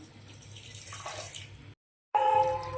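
Water runs steadily into a vessel, a continuous splashing stream that cuts out briefly before resuming louder with a rising pitch as it fills.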